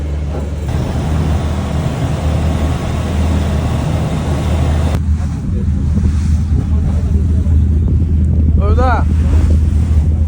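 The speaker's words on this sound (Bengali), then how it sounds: "আমরা বোটের ভিতরে ঢুকলাম ফিফি আইল্যান্ডে যাবো এই বোটে করে" On a boat heading to Phi Phi Island, steady wind and engine rumble roar continuously, with water noise and faint voices in the background.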